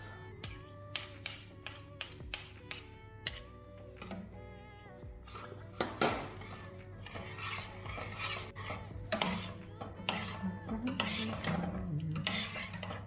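Metal utensil scraping and clattering against a pan while seafood rice cooks, a run of sharp distinct clinks at first, then a denser continuous scraping and stirring texture, close and fairly loud with a low steady hum underneath.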